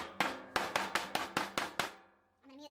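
A mould packed with soap shavings is smacked down on a table seven times in an even rhythm, each hit a sharp, close wooden thud with a short ring, before a brief sound at the end.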